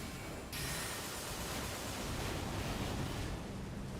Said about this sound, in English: That waterfall.